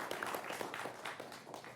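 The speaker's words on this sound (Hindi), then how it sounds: "तालियों के साथ इन सबका अभिनंदन करिए" A studio audience claps to welcome guests onto a televised debate panel about a hijab controversy, a faint, scattered patter of applause in a quiet room.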